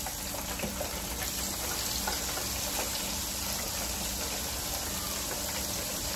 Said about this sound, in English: That thing frying really good,